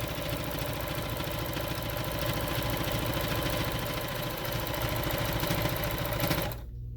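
A sewing machine stitches fabric onto a homemade face mask, its motor running in a steady, close, continuous drone with a rapid needle rhythm, stopping abruptly near the end.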